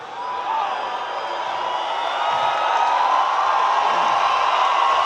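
Huge live crowd at the Rock Werchter festival cheering during a rock concert, a broad continuous roar of many voices that swells slightly and holds steady, loud and somewhat distant.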